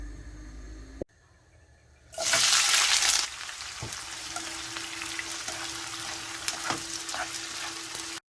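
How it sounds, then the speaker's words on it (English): Food frying in a pan with a steady crackling sizzle, interrupted early by a brief gush of running water, then continuing with occasional light clinks. "once I finish frying the onions, I'm gonna fry the potatoes too."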